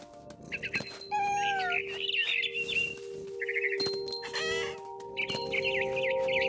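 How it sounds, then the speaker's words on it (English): A barn swallow in the video game What Remains of Edith Finch gives bright, repeated chirps and twittering calls in short bursts. Soft game ambience and an occasional low thump sound between them. "It was a barn swallow going back to her nest."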